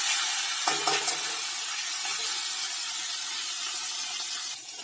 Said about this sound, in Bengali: এবার মাছের মাথাগুলোকে আমি নেড়ে চেড়ে ভেজে নিচ্ছি।